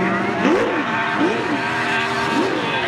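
A Nissan S14 drift car slides around a race track at a D1NZ championship qualifying round, its engine note rising and falling in three repeated swoops as it is backed into the corner, loud and steady throughout.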